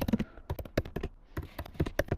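Quick bursts of typing on a computer keyboard while committing a code change, light clustered key taps with a short pause midway, fairly quiet and close.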